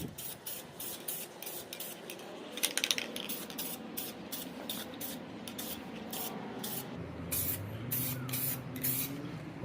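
A spray gun lays light coats of color-matched paint on a BMW E30 M3 DTM rear wing in a run of short, close hissing bursts separated by brief pauses.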